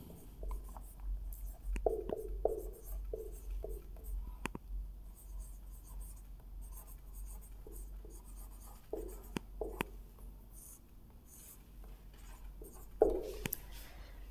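Chalk or marker scratching across a board as the Maxwell equation is written, coming as short, distinct strokes in irregular bursts with pauses between, close and fairly quiet in an otherwise still room.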